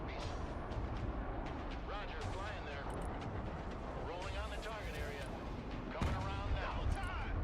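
Airstrike bombs detonating in the real-time military strategy game Broken Arrow, a dense run of heavy booming blasts and crackling gunfire layered over one another, with radio voice chatter running underneath.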